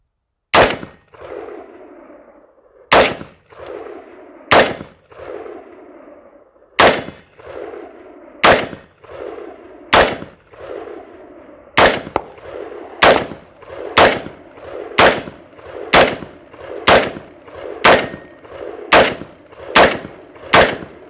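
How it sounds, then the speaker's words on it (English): Single rifle shots from a Sylvan Arms side-folding rifle at an outdoor range, loud sharp reports with ringing decay, slow and spaced at first, then coming faster in a steady series. "Let's load this rifle up and then get to shooting."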